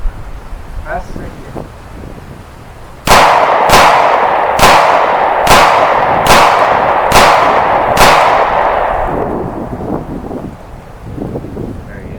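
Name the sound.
Glock 43X pistol fired rapidly, seven shots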